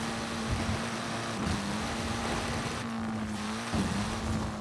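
Car driving in Forza Horizon 5 through snow toward a Christmas tree farm, engine holding a steady drone that dips briefly with gear shifts and bursts of tire noise, loud and continuous with no talk.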